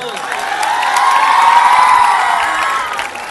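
Schoolchildren at a government school gathering in Patiala cheer loudly and clap, a sustained swell of shouting voices and applause that rises, holds, then tapers off.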